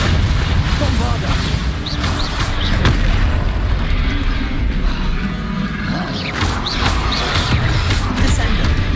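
Bombarda and other attack spells explode in the Hogwarts Legacy video game, a loud, dense and continuous wall of booming blasts and crashes that piles up without pause over the whole stretch.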